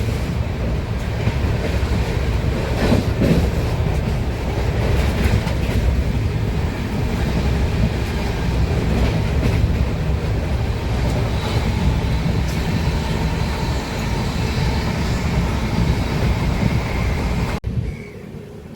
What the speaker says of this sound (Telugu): ట్రైన్ ఒక స్పీడ్ చూడండి భయ, ఆల్మోస్ట్ 114, 120.